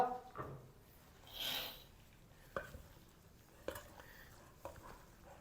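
A spoon stirs and mixes potato and eggplant curry in a pan, giving soft scrapes and a few sharp clinks against the metal at irregular intervals, with a brief hissy swell early on; quiet and close, no talking.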